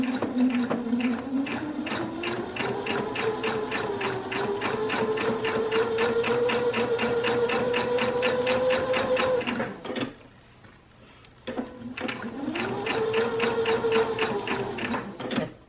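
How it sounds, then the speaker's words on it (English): A sewing machine runs a back stitch through a bench cushion with boxed corners, a steady rapid needle clatter that continues for about ten seconds, pauses briefly, then starts again. "And I'm gonna do a fixed stitch or back stitch."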